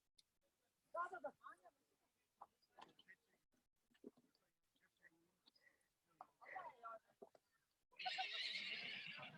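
Wild Mongolian horses whinny and neigh during roping and catching, with scattered snorts and hoof movement, then a burst of rushing noise near the end; sounds are fairly close but quiet overall.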